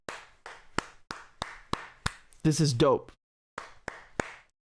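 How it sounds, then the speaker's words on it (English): Clapping during a live political commentary stream: about a dozen sharp, evenly spaced hand claps from one nearby source, broken midway by a brief vocal burst, then a few more claps. "Everybody give them a round of applause."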